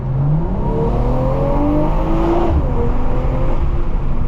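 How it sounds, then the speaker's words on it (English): A 2023 BMW M340i accelerating hard at full throttle, its engine and exhaust droning loud and steady with rising tones through the gears, heard from inside the car with no talking. "All right, we're going to do a full acceleration here."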